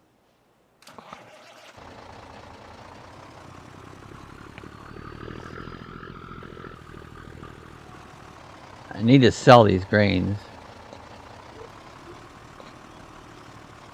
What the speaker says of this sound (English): that's my loud Peterbilt truck